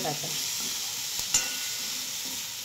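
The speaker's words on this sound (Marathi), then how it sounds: "त्यामुळे आता चांगलं परतवून घ्यायचं याला" Potatoes stir-fried in oil for a capsicum and potato sabzi, a steady bright hiss of frying with one sharp spatula tap in the middle.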